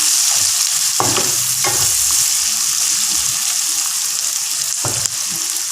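Onions with a little salt sautéing in a pan for prawn sambal, a steady broadband sizzle with several sharp spoon-scrape stirs, close and loud, no talking.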